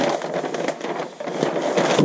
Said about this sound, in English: let's fold it on our side seam grain line